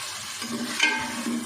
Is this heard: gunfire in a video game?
no